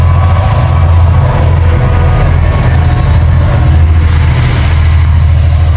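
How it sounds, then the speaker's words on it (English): A big coal train rumbles past near an RAAF base, a loud, steady low drone of rolling wagons that holds without a break throughout, with no voices over it. "Big coal train."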